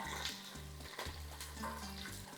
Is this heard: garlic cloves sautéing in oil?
yes